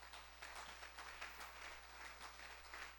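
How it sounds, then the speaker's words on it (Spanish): Soft, distant applause rises from a church congregation at a Spanish-language family service, a faint continuous patter of many hands without talk, ending in a sharp bump. "Dele un fuerte aplauso al Señor."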